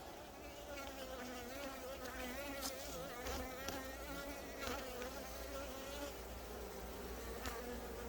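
Dense, steady buzzing of many Buckfast honeybees in a hive close by, a continuous droning hum with brief louder passes, no talk.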